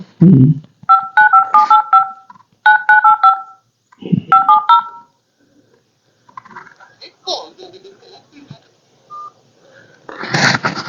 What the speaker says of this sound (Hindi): मुझे फोन लगाओ भाई